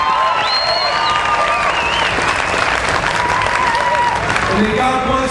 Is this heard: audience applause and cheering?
yes